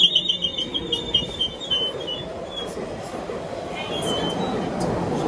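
Passenger train interior during a run, a continuous low rumble of wheels and motors with faint high squeals and clicks, heard from inside a nine-coach train serving Heathrow Airport; an announcement voice speaks briefly near the start.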